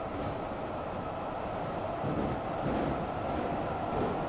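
Metro train running in the Garry's Mod Metrostroi rail simulator: a steady, dense rumble of motor and wheels on track, continuous and loud, with faint rhythmic clatter throughout.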